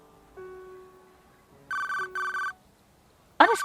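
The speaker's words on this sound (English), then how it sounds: "Unexpectedly, his cell phone rang." Cell phone ringtone bursting out in two short electronic chiming rings after a quiet stretch of faint tones, followed by a brief bright warbling sound at the end; no voices.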